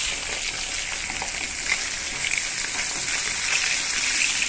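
Tilapia pieces frying in hot mustard oil in a kadai give a steady, close, continuous sizzle with faint crackles and spits throughout, no voices.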